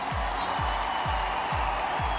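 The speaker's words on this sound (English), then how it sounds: "Let's give them a round of applause as well" Steady wash of audience applause for the Miss South Africa 2016 pageant contestants, dense and even throughout, with a few soft low thumps recurring at a regular pace.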